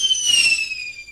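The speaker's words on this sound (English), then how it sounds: "Fireworks, please." Fireworks sound effect, a short whistling rocket with a bright descending tone that holds briefly and then fades out, heard alone.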